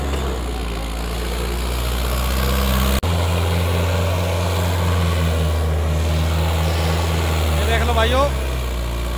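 A 2020 Mahindra 555 Ultra One tractor runs in a farm field during a hydraulic sensing test with a plough, its engine droning steadily and loudly with a brief cut-out early on while someone speaks over it.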